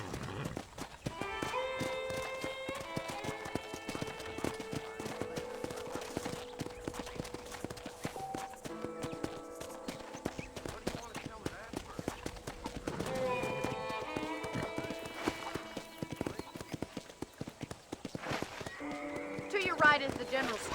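Horse hooves clip-clop in a steady walking rhythm in the video game Red Dead Redemption, accompanied by game music with sustained tonal notes and a voice talking over them.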